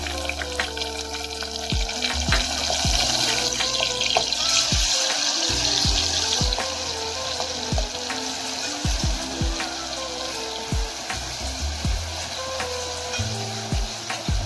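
Garlic, ginger and green chili paste sizzling in hot tempering oil with bay leaf, a steady close crackle broken by repeated scrapes and knocks of a spoon stirring the pan.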